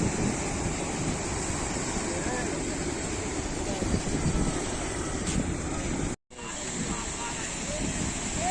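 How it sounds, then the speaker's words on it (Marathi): Sea waves rolling onto a Mumbai beach, a loud, steady roar of surf mixed with heavy wind buffeting the microphone, continuous apart from a brief cut near the end. "लाट आणते एकदम जवळ येतात"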